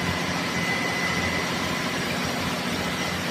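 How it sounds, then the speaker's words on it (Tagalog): Starboard main engine running in the engine room of an LCT vessel, a steady loud mechanical drone with deep low rumble and constant machinery hum, unbroken throughout with no talk. "mo ni ang starboard na makina, main engine sa starboard, kay duha may makina ani."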